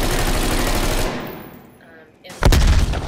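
Heavy automatic gunfire in Call of Duty Black Ops Cold War, a loud sustained burst that fades briefly before another close, powerful volley erupts.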